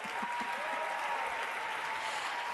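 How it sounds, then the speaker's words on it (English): A closing-ceremony audience at World Food Day applauds for Adama after a performance, an even, moderately distant wash of clapping with a faint tone lingering underneath. "Another round of applause for Adama."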